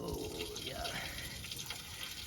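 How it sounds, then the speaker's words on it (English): Water runs steadily out of the opened upper case drain on a Lima 34 Paymaster engine, a close, continuous trickling pour with a broad hiss. A voice talks over it. "I think I'll pull the drain and see what may or may not be in there. See how much water comes out of this thing"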